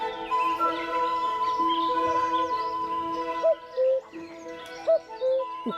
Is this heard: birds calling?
yes